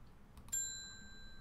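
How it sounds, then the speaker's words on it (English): A bell ding from the Fabulous Food Truck video game sounds once, a bright metallic strike with a clear ringing tone that slowly fades over a faint background hum. "Try the bell."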